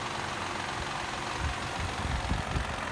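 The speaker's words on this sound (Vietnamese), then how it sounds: "Nó kêu ở trong cam nạp là kêu lớn hơn nha các bạn" A car engine idles at a morning cold start with a steady low rumble, a faint knocking from the intake camshaft inside the engine ticking through it, close and continuous with no talk.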